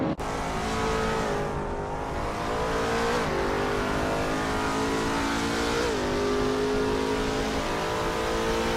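A 2004 Saleen 7, an American high-performance supercar, roars steadily in a racing video game, its engine pitch climbing and dropping back at gear shifts around the third and sixth seconds, loud and continuous with no voices.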